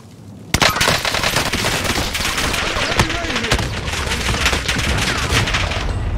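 Rapid automatic gunfire in a duos battle match of a shooter video game: dense, loud bursts of overlapping shots that start abruptly and keep going in near-continuous fusillades, with faint talk underneath.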